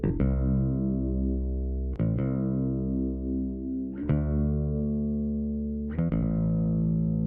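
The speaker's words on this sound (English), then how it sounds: "I have auto-tune on the bass." Bass guitar track processed with auto-tune, four sustained notes struck about every two seconds with a steady, buzzy, pitch-corrected tone and faint chorus-like shimmer, playing alone.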